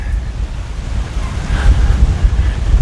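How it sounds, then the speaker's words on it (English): Gusty wind outdoors at a river forest preserve, loud low rumbling buffeting on the microphone that swells stronger toward the end. "I'd say that's a little on the windy side."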